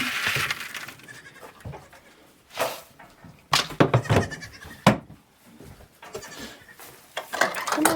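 Goats in a farm pen bleat repeatedly, several loud calls in bursts with quieter gaps, close by and alone.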